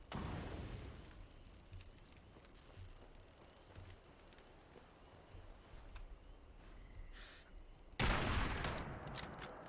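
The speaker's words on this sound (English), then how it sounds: "Let's hit it with a Molotov." A Molotov cocktail thrown in Fallout 76 bursts near the end as a sudden loud whooshing flare. It follows a long stretch of faint crackling, scattered distant pops and low game ambience.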